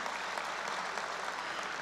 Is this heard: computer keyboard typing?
no